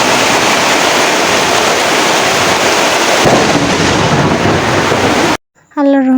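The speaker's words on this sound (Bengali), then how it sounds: "বাইরে প্রচণ্ড বৃষ্টি হচ্ছে" Heavy rain pours outside in a loud, dense, continuous roar. It breaks off abruptly near the end, when a voice is briefly heard.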